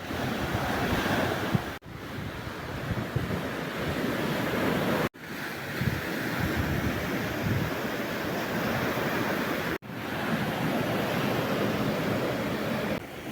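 Ocean waves surge onto the shore of a small uninhabited island in the South China Sea, a loud continuous wash of surf with wind buffeting the microphone, broken by a few abrupt cuts.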